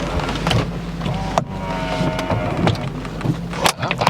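A Ford Thunderbird convertible's roof opening: a continuous whirring motor with rustling, creaking fabric and a few sharp clunks as the top moves and locks, close and fairly loud, no speech.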